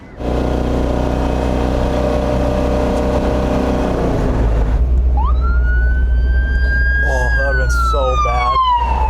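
Engine rumble gives way to a loud police car siren that wails up and holds, shifting into a rapid yelp before sweeping down as it passes close by.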